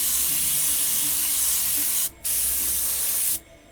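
An airbrush sprays paint onto an RC car body shell with a loud, steady hiss, broken by two brief pauses as the spray stops and restarts.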